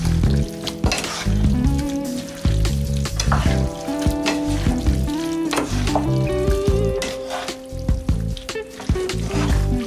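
Stewed cabbage and ham cubes sizzle loudly in a pot, with a continuous frying hiss broken by repeated scraping and stirring knocks as the mixture is turned over, and no talking.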